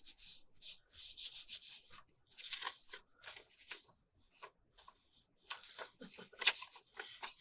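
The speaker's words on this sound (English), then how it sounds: "let's go back here and wipe off the excess glue" Excess glue being wiped off a handmade paper pocket booklet, a series of soft, close rubbing strokes in uneven bursts with short pauses between them.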